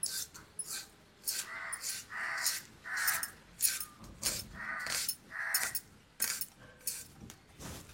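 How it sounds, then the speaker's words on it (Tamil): Onion and tomato being chopped with a knife, a rhythmic series of close, crisp blade taps on a board with short pauses between strokes. "வெங்காயம் தக்காளி அரியிறேன்."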